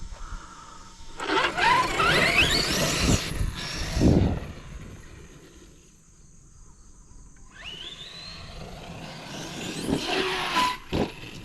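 An RC basher car screams through a run with whining motor and tire squeal, thuds down from a small jump mid-run, then whines back up again, loud and close with no voices.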